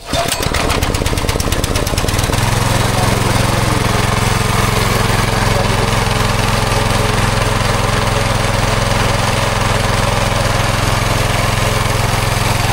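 Pesticide spray machine used on mango trees, its engine cranking with rapid knocks, then catching and running at a loud, steady drone close by, alone for the rest of the clip.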